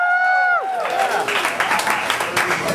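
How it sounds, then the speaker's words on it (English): Scattered audience clapping at a comedy show, a brief burst of applause following a sustained tonal sound, moderately loud and continuing for a couple of seconds. "Round of applause, go."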